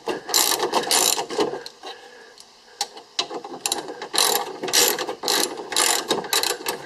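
Socket ratchet backing out a bolt on a Ford Focus window motor: quick close bursts of ratcheting clicks with short pauses between strokes, crisp and fairly loud.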